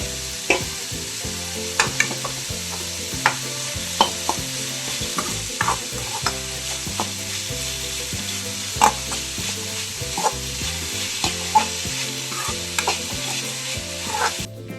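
Onions and beans sauté in a pan with salt, a continuous low sizzle running under a long series of regular spatula scrapes and clinks as the pan is stirred, with no voices.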